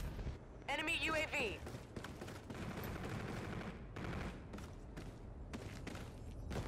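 Rapid gunfire in the sci-fi shooter game Call of Duty: Infinite Warfare, bursts of shots layered over a dense, loud battle din, with voice callouts heard over the action.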